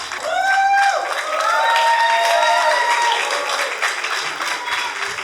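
Sustained audience applause at a wedding reception during speeches, steady dense clapping from a crowd that fills the room, with a few voices and faint cheers mixed in throughout.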